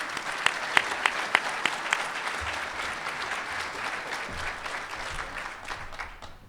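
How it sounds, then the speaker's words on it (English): Sustained applause from a conference audience greeting an Intel keynote speaker at a cloud forum, dense clapping with a few sharp claps standing out early, steady for several seconds before thinning slightly at the end. "could we have a big round of applause"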